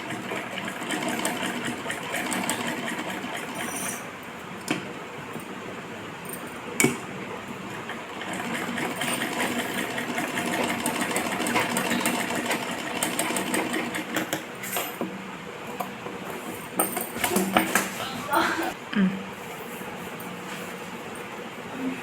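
Sewing machine stitching fabric for palazzo pants, a fast, even mechanical whir with bursts of needle clatter that start and stop, fairly quiet and close.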